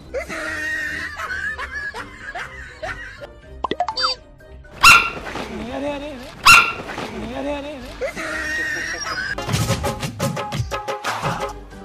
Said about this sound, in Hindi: कुत्ता है पागल कुत्ता है